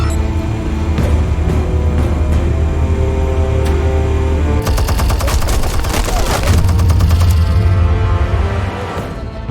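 Video game combat with rapid bursts of loud, close gunfire and booming explosions, building into a dense barrage partway through with heavy low rumble.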